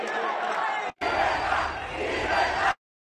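Crowd outside the Real Casa de Correos in Madrid reacting to Argentine president Javier Milei on the balcony, a loud dense roar of mingled shouts, boos and cheers that cuts out briefly near the one-second mark and then resumes before stopping.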